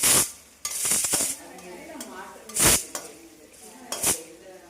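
Onions get sautéed in a pan for a goat blood stir-fry, a low sizzle broken by loud metallic scrapes and clanks of a spatula against the pan at irregular intervals, with no talk.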